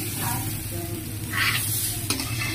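Raw rice for pulao sizzles and crackles in hot oil as it is stirred, steady and close, with a brief clink of a utensil near the end.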